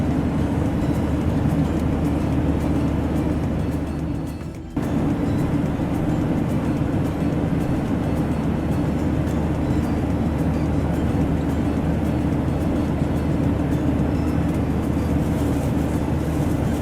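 Steady, broadband drone of an airliner cabin in flight, a constant low rumble and hiss that dips briefly around four seconds and then resumes unchanged, with no voices.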